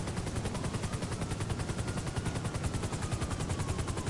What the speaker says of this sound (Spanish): le va a pegar un disparo en la cabeza cuando baje